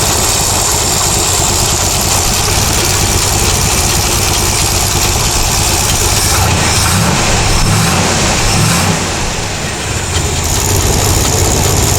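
A 1967 Chevrolet Corvette engine runs steadily at a loud idle right after carburetor work, a constant close rumble with a slight waver in the middle and no voices.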